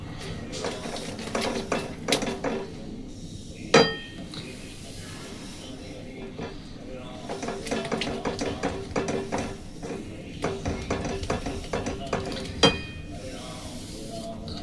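Sweet flour batter stirred in a pan over a low gas flame, a spoon scraping and clinking against the metal in a steady, uneven rhythm with a few sharper knocks, close and moderately quiet.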